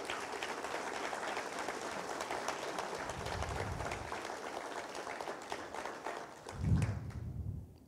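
Congregation applause during a church service, a continuous wash of clapping at moderate level, with a low thump near the end before it fades.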